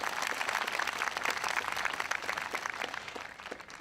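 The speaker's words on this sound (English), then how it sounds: "Let's have another big round of applause for them." An audience at an Ames Municipal Band concert gives a big round of applause for the brass quintet, with brisk, dense clapping at moderate volume that begins to thin toward the end.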